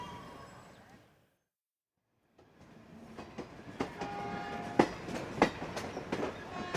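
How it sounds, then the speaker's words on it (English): An old train travels across South India. After a brief drop to near silence, rattling carriages return and grow louder, with clattering wheels and sharp metallic knocks over a steady rolling rumble. "I boarded an old train for my journey to Calicut on the west coast"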